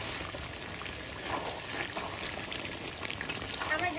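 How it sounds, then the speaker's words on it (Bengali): Fried onion going into duck meat cooking in a pan, giving a steady close sizzle and crackle throughout, brightening slightly toward the end. "এবার আমি এই পেঁয়াজ, ভাজা পেঁয়াজটা দিয়ে দেবো।"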